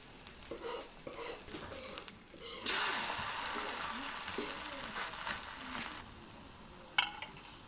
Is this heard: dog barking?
no